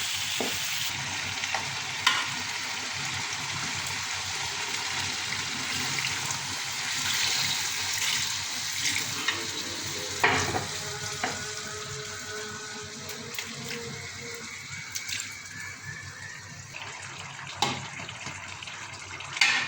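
Steady frying sizzle of rohu fish in hot oil, continuous and close, with occasional clinks and scrapes of a utensil.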